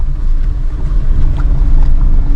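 A car rolling downhill in second gear with the engine braking, giving a loud, steady low rumble and road noise throughout with no talk.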